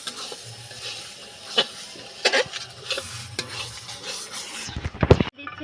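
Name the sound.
meat added to pot with ground spices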